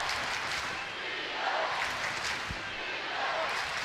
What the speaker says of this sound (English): Home crowd are liking what they're seeing.